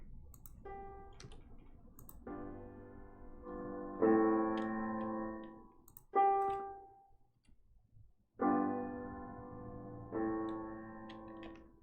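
Several piano chords containing parallel octaves are played in short groups, struck and left to ring and decay, with brief pauses between phrases.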